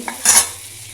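Soya mini chunks with turmeric, chili powder and salt are stir-fried in a pan, heard as a brief loud burst of sizzling and scraping that quickly fades to a low hiss.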